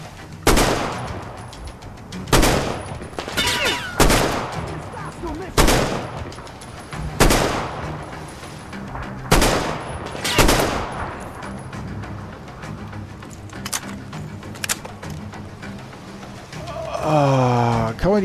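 Bursts of gunfire in the Metro Exodus Sam's Story DLC, a series of loud, sharp shots and short volleys spaced through the stretch, with quieter ambience between and a gasping breath near the end.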